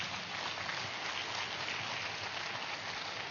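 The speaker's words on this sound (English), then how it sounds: "Let us give a big clap for Guruji Patriji." A large audience in a hall gives Guruji Patriji a steady wash of applause, dense and even throughout, with no single claps standing out.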